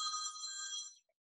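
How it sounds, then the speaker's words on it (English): A telephone bell rings steadily for about a second at a trainer's greyhound kennel, then cuts off, clear and alone with no talk over it. "that's Mr. Mullins ringing me."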